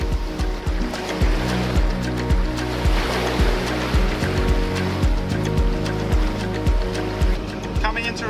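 Atlantic Ocean waves rush and surge around a sailing yacht moving at about 10 knots near Morocco and Spain, a steady loud wash of water with rhythmic low thumps, joined by a voice at moments.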